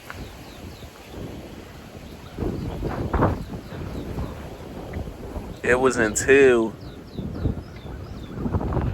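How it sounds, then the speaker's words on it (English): Gusty wind rushes steadily across a microphone outdoors, a broad rumbling roar that swells and eases throughout while someone talks over it. "It's very windy out here."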